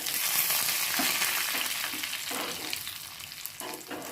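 Garlic and curry leaves fry in hot tempering oil for a ridge gourd tamarind stew, giving a steady close sizzle with soft stirring scrapes throughout, no voices.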